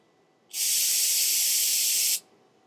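A can of brake cleaner sprays from roughly a foot away, giving one steady, loud hiss that lasts about a second and a half and then cuts off cleanly.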